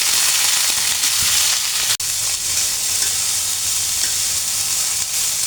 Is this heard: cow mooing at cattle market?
no